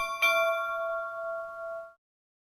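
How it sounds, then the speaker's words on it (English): Ship's bell clock chime played through a smart speaker: a single struck bell tone with a bright attack that rings on steadily, then cuts off after about two seconds, heard alone. "my last two traditional clocks are ship's bell"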